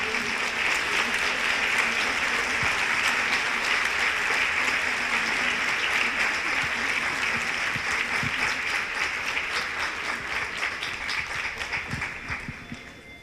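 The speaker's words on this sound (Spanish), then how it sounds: "Muchas gracias, un aplauso por favor." An audience at a conference panel applauds steadily, dense clapping filling the room for about twelve seconds before tapering off slightly at the end.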